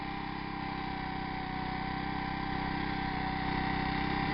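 Two-stroke engine running on synthetic fuel without aromatics, heard at a steady, continuous drone that settles toward idle, close and loud, with no talking.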